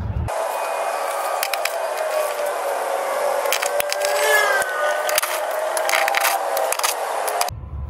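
Clicks and scraping grinds of an extendable ratchet working tight bolts loose on a BK1 Genesis Coupe 2.0T during a transmission mount install, with irregular sharp ticks and a steady mechanical rasp lasting several seconds, close up.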